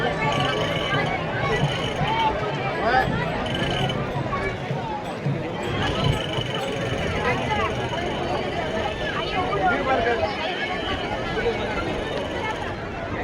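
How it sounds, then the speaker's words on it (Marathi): A large pilgrim crowd at the Pandharpur Wari fills the scene with a dense, steady hubbub of many voices, close and continuous, with footsteps and movement mixed into the babble. "खूप गर्दी आहे, खूप गर्दी आहे."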